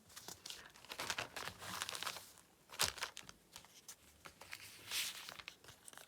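Plastic wrapping around a bath bomb crinkles and tears close by as it is opened, in irregular bursts of rustling with a few sharper crackles and brief pauses between handlings.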